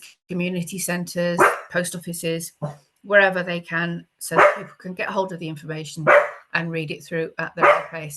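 A pet dog barks intermittently in the background while a person keeps talking steadily over it.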